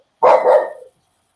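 A small dog gives one short, sharp bark, close and loud, against an otherwise silent background.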